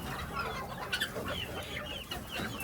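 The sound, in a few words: guinea fowl and chickens clucking in a coop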